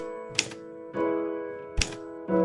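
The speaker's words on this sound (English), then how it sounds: "Grandpa is typing something for you guys." Typewriter keys struck one at a time, with sharp, loud mechanical clacks spaced well apart and carriage or key noise ringing between strikes, close up.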